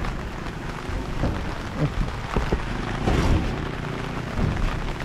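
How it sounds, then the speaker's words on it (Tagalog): Steady rain falls on an outdoor construction site where a flat steel deck is being installed, a dense continuous wash with scattered louder drops and patters throughout. "umuulan na dito."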